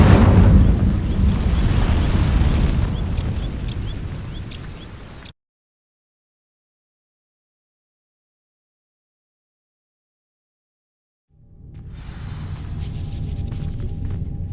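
Incendio fire spell bursting into flame on dry vines in Hogwarts Legacy: a loud, roaring whoosh and crackle of ignition for about five seconds, then complete silence, then a quieter rumbling return with faint ringing tones.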